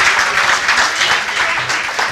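Thick, steady applause fills a fundraising event hall for a group of donor families, close and loud, continuing evenly without a break.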